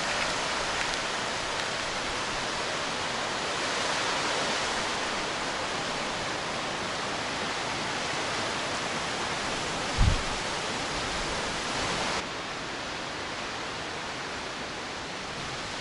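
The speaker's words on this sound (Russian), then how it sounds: "Но тут звук грома разбудил, и начался неплохой ливень." Heavy storm rain pours steadily over a riverside camp, a dense even hiss with no letup, broken once near the middle by a brief low thump, likely distant thunder.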